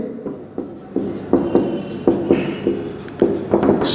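Chalk writing on a classroom board during a chemistry lesson, with a rapid series of scratchy taps and strokes close up and a short pause between strokes.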